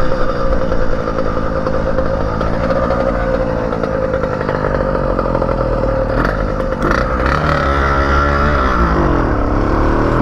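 A motorcycle engine revs hard and steady during a wheelie, loud and close throughout, with the pitch rising and falling as the throttle is squeezed, and a brief clatter near the end. No voices.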